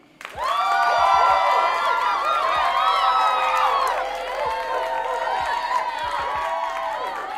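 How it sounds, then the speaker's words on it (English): A crowd cheers and whoops loudly over steady clapping, with shouts rising and falling throughout. "round of applause again."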